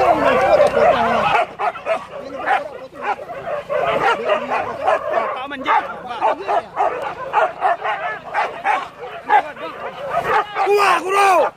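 Hunting dogs bark and yip in a rapid, overlapping chorus near at hand, excited and continuous over a field chase, with people talking and calling amid the din.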